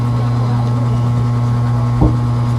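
A Wahl hair clipper motor fitted with an upgraded blade runs with a loud, steady electric buzz, holding an even drone for the whole stretch with no voices.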